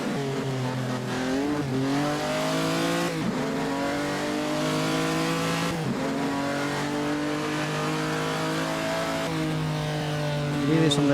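A Ferrari race car engine from the 1948 Gran Premio di Napoli in Assetto Corsa drones steadily near at high revs, rising through gears with brief shift dips, loud and sustained with no talking.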